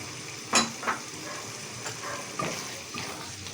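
Spices fry for chana daal in a pan with a continuous close sizzle, while a spoon stirs and scrapes with several distinct knocks against the pan.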